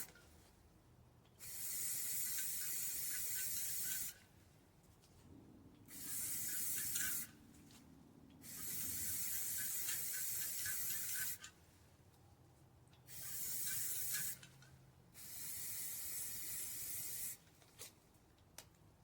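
Repeated bursts of aerosol spray paint hiss onto a tumbler, five or six presses lasting a few seconds each with short quiet gaps between, close and fairly loud.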